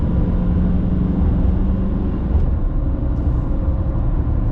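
A GMC Sierra 2500HD Denali heavy-duty pickup cruises along, its steady low engine and road rumble dominating a loud, continuous cabin drone without any talking.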